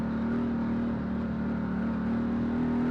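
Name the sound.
off-road UTV engine exhaust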